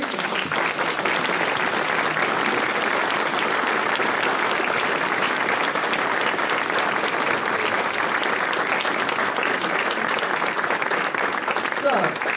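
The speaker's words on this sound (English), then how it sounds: "give Pauline a big round of applause for everything she's done" Long, steady applause from an audience at a Greensboro town meeting honoring Pauline, dense even clapping lasting over twelve seconds with voices faintly mixed in.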